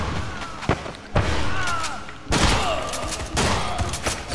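Shotgun blasts in the VR game Hard Bullet: a few loud, sharp booms with heavy low thuds, spaced about a second apart, close and dominating.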